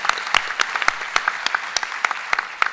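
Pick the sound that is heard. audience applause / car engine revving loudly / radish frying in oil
audience applause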